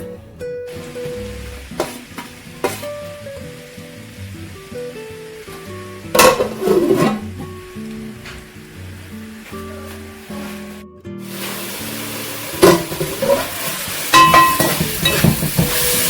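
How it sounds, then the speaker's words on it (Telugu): Onions, green chillies and curry leaves fry in oil in a kadai for Andhra-style mutton paya, a close sizzle broken by repeated spoon knocks and stirring, growing louder and brighter in the last few seconds, with no talk. "కొన్ని ఆనియన్స్, పచ్చిమిరకాయలు అండ్ కరివేపాకు రెడీగా పెట్టుకున్నాను. అలా బాండీ పెట్టుకొని ఆయిల్ అది వేసుకోవాలి"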